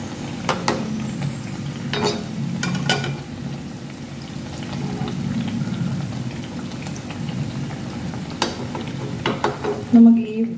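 Bread slices for shahi tukda frying in hot oil until brown, giving a steady close sizzle and crackle throughout, with occasional sharper pops and stirring clicks.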